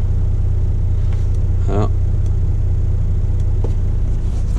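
A truck engine runs with a steady, loud low rumble throughout, and a voice speaks briefly over it.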